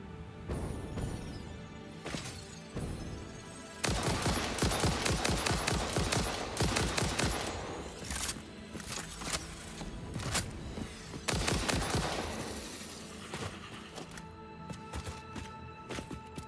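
Gunfire in the video game Satisfactory crackles in rapid bursts of shots, loud and near, broken by short pauses between volleys.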